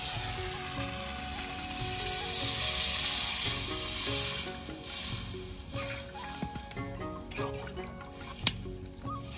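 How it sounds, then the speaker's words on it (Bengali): Water goes into a sizzling, well-browned country chicken curry, giving a soft hiss and bubbling that swells, fades and settles into quieter simmering, with a sharp clink near the end. "এখন ঝোলের জন্য জল দিয়ে দেবো।"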